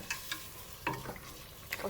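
Beef curry being sautéed and stirred in a pot, a soft low sizzle with a few distinct clacks and scrapes of a spoon against the pot, faint and close.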